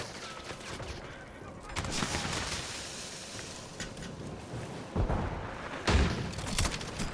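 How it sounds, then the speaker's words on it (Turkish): Shotgun blasts ring out indoors in Call of Duty Modern Warfare 3, several loud booming shots over a constant noisy battle background, with heavier hits near the end. "Pompalı yapıyor içeride."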